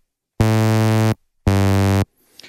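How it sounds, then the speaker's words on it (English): An initialized ButterSynth synthesizer preset plays a plain, loud sustained tone twice, each note lasting under a second with a short gap between, leaving only a faint rustle after. "as now, you have an initialized preset which sounds like this."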